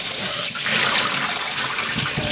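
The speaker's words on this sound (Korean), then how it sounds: "물을 이렇게 빼시면 돼요." Water pours out steadily while draining from a container of beef ribs soaked for several hours, a loud, continuous close-up splashing gush with no speech over it.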